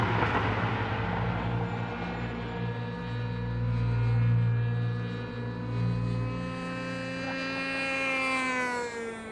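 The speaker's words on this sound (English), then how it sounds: "the only airport that this serves is for the model airplane guys, and you can hear their engines going and flying around here" Small model airplane engines buzz over a former wartime airfield in Malta, a steady droning hum with sustained harmonic tones that swell slightly as the aircraft circle, moderately distant and continuous with no talk.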